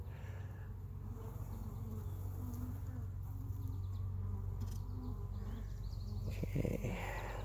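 Honey bees buzzing in an opened hive, a steady low drone of many wings close by, continuous throughout with no talking.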